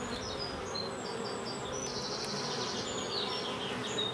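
Honeybees buzz densely inside an open hive box, a loud, continuous close-up drone with higher whines of individual bees flying past, no voices.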